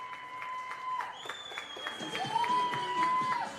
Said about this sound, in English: The Karina Grigorian fan club must be in full effect here in Bundoora.